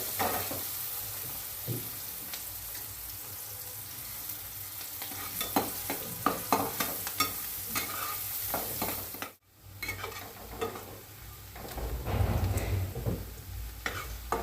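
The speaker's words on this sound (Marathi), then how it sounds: "कांदा चांगला परतून घेऊ कांदा चांगला मी केला होते परतून घेते लाल होत तर" Onions sauté in a pan for sukka chicken, a continuous close sizzle broken by repeated scraping stir strokes and one brief dip partway through. No one speaks.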